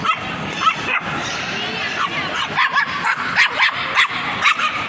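At a dog festival inside a shopping mall, several dogs bark and yip in quick bursts, growing busier toward the end, mixed with crowd murmur and nearby voices.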